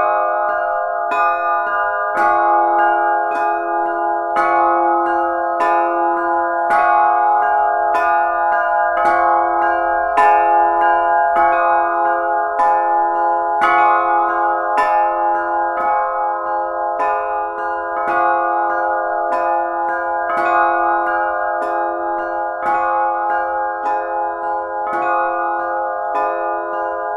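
Small church bells rung in a continuous peal, with repeated rhythmic strikes of bright, sustained tones layering over one another, heard close and clear with no talking.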